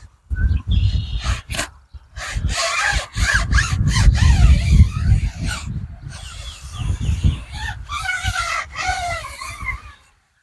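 Ceramic tire coat being rubbed by hand onto a car tire: steady scrubbing and squeaky friction strokes, close and fairly loud, running continuously with brief pauses before fading out at the end.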